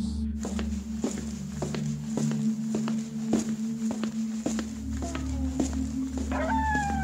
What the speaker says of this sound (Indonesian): suara langkah kaki dari halaman